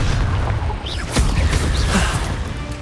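Confringo fire spell explosions in Hogwarts Legacy on PS4, a series of loud booming blasts and crackling bursts in quick succession, filling the clip with dense rumble.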